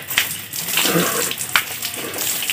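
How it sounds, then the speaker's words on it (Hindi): Water from a village shower is poured over a bather, a steady close rushing splash with a few sharper splashes as it lands. "ठंडा ठंडा कोल कोल ऐसे ऐसे डालता है पानी।"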